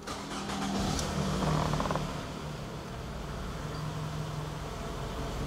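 A 2004 Toyota Camry G 2.4 automatic engine starting with a brief cranking burst, then settling into a steady, even idle hum close by, with no talk.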